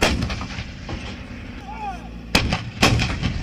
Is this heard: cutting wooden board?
no